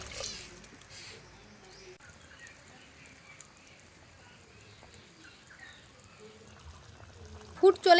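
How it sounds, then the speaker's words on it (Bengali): Water is poured into a pan of well-fried potatoes for a thin fish curry with cumin and coriander paste, a soft, low trickling pour against a quiet background, with a sudden louder burst right at the end and some talk nearby. "এবার জল দিয়ে দেব"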